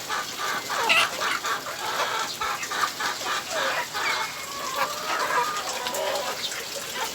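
Chickens on a small farm in Antipolo cluck repeatedly in short overlapping calls, moderately near, over a steady wash of heavy rain noise.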